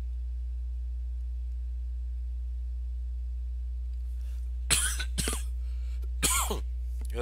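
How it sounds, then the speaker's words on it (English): Two harsh, close coughs break the quiet a second or so apart, over a constant low electrical hum. "Probably coughing all in your ears."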